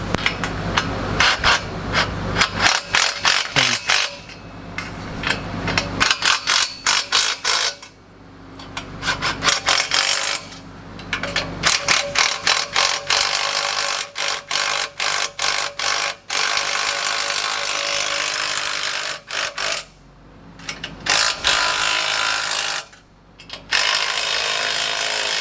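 Ratchet clicking in fast repeated bursts while downpipe bolts on a BMW M4 are tightened, the sharp ratcheting close and loud, with brief pauses between runs and no talking.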